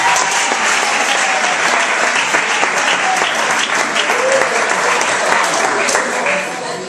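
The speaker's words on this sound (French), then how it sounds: "Sous vos acclamations." Loud, sustained applause from an audience of pupils and guests at a school English Day event in Mouila, Gabon, a dense wash of many clapping hands that barely fades, with faint voices beneath.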